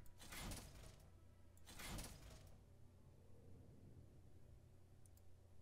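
Doors sliding open in the puzzle game Doors: Paradox, two quiet whooshing slides about a second and a half apart, each with a clicky mechanical edge, followed by a low steady hum and a faint tick at the end.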